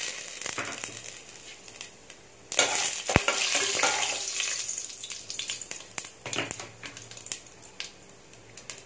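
Whole spices tempering in hot oil for an Andhra-style raw jackfruit kurma, with a loud bright sizzle bursting up partway through and crackling on, stirring scrapes and clinks throughout, close by with no talking.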